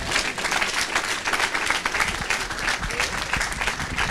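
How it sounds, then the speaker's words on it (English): An audience at a youth homelessness campaign kickoff event claps steadily in a short, even burst of applause, moderately loud and without speech over it. "Let's give a big round of applause."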